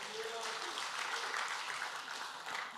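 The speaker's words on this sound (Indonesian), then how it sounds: "Tepuk tangan buat kamu" A church congregation claps steadily, a continuous, moderately distant patter of hands over a few seconds with a voice faintly mixed in.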